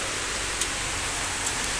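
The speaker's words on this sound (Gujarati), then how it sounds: "અને જોઈ શકો કેટલો બધો વરસાદ પડી રહ્યો છે." Heavy rain during a windy storm with hailstones falling: a dense, unbroken roaring hiss with a couple of faint sharp impacts standing out.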